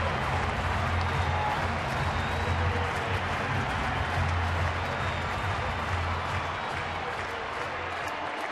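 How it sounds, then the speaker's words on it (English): A baseball stadium crowd at a Florida vs. San Francisco game in May 2011 roars and claps in a dense, steady wash of cheering that holds loud and unbroken from start to finish. "Finally get a chance to cheer."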